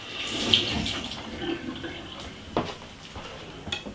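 Running water splashes irregularly from a tap as celery is rinsed under it, with occasional knocks and squeaks.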